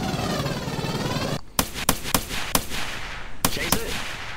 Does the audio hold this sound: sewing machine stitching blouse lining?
no